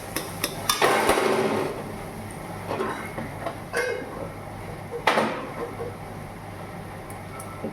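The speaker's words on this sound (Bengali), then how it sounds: "এবার এটাকে আমি ভালো করে কষিয়ে নেব" Vegetables stir-fried with cumin in a pan, a spatula scraping and clattering against the metal in several separate bursts, close by, with a steady low hum under it.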